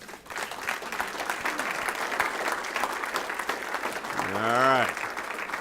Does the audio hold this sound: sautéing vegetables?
no